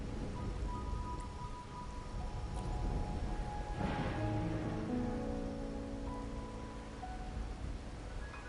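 Rain falling in the video game Wuthering Waves, in the region of Raguna: a steady, soft hiss of rainfall runs throughout beneath sustained tonal game ambience, with no voices.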